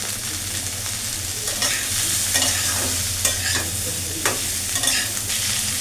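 Steady, close frying sizzle with frequent spatula stirring and scraping in the pan, as a pinch of salt and turmeric goes in near the end, over a low constant hum.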